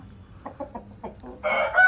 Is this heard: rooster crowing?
yes